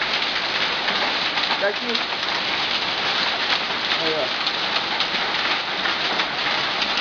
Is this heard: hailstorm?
yes